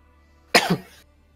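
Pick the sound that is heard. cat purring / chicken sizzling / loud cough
loud cough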